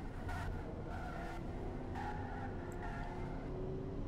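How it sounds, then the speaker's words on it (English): Steady tyre squeal and engine drone from a slow car cruising around a test track in the Automation car-building game, quiet and continuous with no talk. "Lots of tyre noise."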